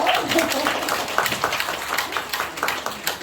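An audience at a school talk concert claps for the principal. The individual claps are scattered and uneven, moderately loud, and a voice can be heard faintly beneath them.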